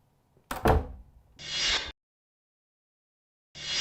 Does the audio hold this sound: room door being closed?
yes